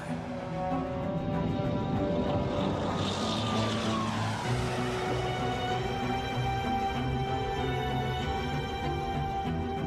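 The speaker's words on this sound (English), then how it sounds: "Both planes take off into a stormy sky." Steady aircraft engine drone from planes climbing into a stormy sky, a loud sustained hum that rises and shifts in pitch partway through with no pauses.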